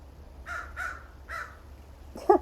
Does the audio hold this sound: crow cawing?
yes